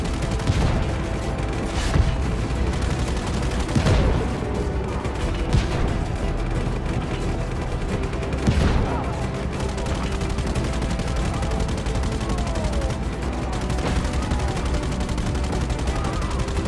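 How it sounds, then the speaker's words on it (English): Sustained gunfire and explosive booms rattle around the player's tank in the open-world action game Just Cause 3, with dense volleys and louder blasts near 4 and 8.5 seconds over a constant roar of battle noise. "Are they shooting at my tank?"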